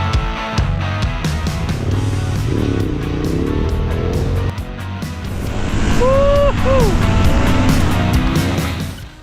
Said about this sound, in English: The V-twin engine is pulling very smooth.